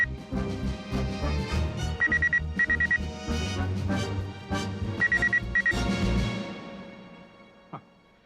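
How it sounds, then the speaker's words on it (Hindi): A telephone rings in short, repeated electronic trilling bursts, two clusters of rapid pulses set against dramatic background music in a room. "घंटी तो अभी भी बज रही है।"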